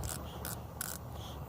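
Coffee grinder grind setting being turned from coarse back to fine, three or four short close ratcheting clicks in an even rhythm, alone and fairly quiet.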